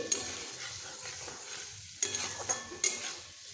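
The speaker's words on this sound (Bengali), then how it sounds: "মশলা এইভাবে ভালোভাবে কষিয়ে নিচ্ছি" Spice masala for a fish curry with soft potatoes stirs and fries in a pan, with continuous sizzling and several sharp scrapes of the spoon clustered in the second half, close and alone.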